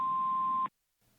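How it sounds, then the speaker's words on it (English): A single steady electronic voicemail tone, loud and alone, holding for about two-thirds of a second before cutting off into silence, with a faint voice starting at the end. "you've reached the voicemail box for Cassidy Peterson."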